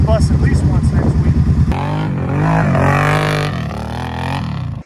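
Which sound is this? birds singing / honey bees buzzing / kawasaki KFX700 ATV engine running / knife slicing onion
kawasaki KFX700 ATV engine running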